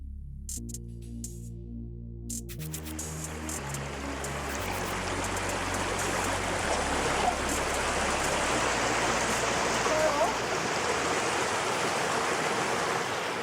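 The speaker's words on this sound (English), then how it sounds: "The high waterfall of 300 meters forms a small river where we all sample the cleanest and freshest water available." A 300-meter waterfall feeding a small river in Tungudalur Valley, Iceland, a steady broadband rush of water that swells in after a few seconds of low musical tones and continues evenly, with no talk.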